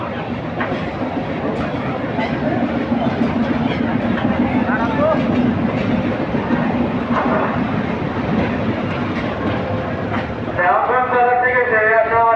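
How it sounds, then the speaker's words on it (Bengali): A Dhaka-bound commuter train enters a station platform on line 3 with a steady rumbling roar and clatter under a crowd's chatter, and a harmonic horn-like tone rises near the end. "ঢাকা অভিমুখী কমিউটার ট্রেন 3 নম্বর লাইনে প্রবেশ করলো"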